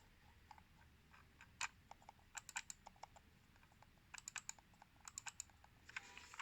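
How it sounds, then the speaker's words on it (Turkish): Quiet, close clicks from the scroll wheel and buttons of a Xiaomi Mi Dual Mode Wireless Mouse Silent Edition, coming in short irregular bursts of light ticks over faint background hiss. "Evet tekerlek sesini duyuyorsunuz."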